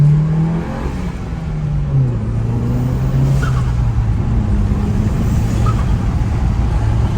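A Mk7 VW Golf GTI fitted with an ECS cold air intake and DV spacer accelerates: a loud, close engine drone that rises and shifts in pitch, with steady intake whoosh throughout.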